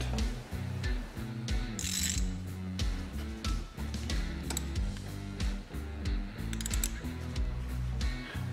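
A plug being threaded back into the differential drain of a Yamaha Wolverine X2 850 R-Spec side-by-side, heard as steady quick ratchet clicks and metallic ticking, fairly quiet and close, with no talking.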